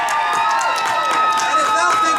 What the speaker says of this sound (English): please cheer.